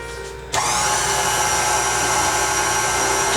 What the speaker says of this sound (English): back onto the mixer